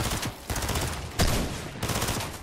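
Rapid bursts of automatic gunfire in Fortnite as a player shoots out their own built structures, loud dense volleys with a couple of short breaks between them.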